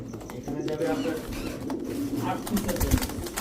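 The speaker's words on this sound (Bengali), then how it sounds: "হান্ড্রেড পার্সেন্ট রেসার একটা নর কবুতর" Racing pigeons cooing close by, soft low throaty coos repeating under a voice talking throughout.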